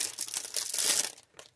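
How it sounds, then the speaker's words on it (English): Plastic packaging crinkles close up during an unboxing, a busy rustle for about a second followed by a brief final crackle. "So sorry for the crinkling noise."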